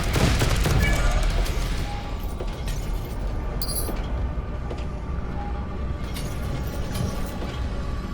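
Pistols firing in the VR shooter Dead Hook: a loud burst of sharp shots at the start, then a steady roar of game noise with scattered faint mechanical clicks and distant pops.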